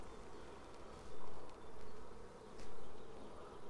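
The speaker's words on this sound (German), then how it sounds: "Außer den Bienen, die da jetzt schon überall rumkreisen, das sind die Flugbienen, die nach Hause kommen" Honeybees circle a bee box as foragers return home, their buzzing a steady near hum that swells and fades as individual bees pass close, with no talk.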